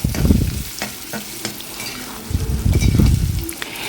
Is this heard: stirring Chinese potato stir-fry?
yes